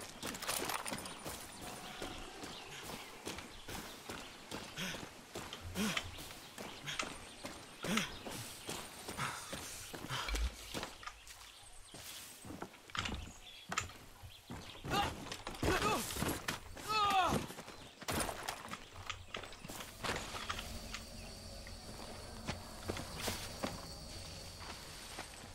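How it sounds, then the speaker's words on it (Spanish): Horse hooves clip-clopping in the video game Far Cry 6, rhythmic hoof steps mixed with game effects, ambience and occasional voices, fairly quiet throughout. "Esto es para pedir un caballo."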